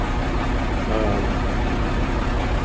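A heavy tractor engine idles steadily and loudly up close, a continuous low rumble with a droning hum and no pauses.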